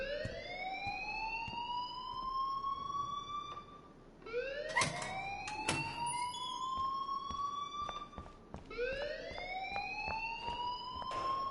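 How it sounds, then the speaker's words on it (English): A school alarm rings in Life is Strange, a video game: a loud, rising electronic wail that repeats in three long sweeps, with a few sharp clicks and thumps in between and no talking. "please turn off that alarm since that's your job"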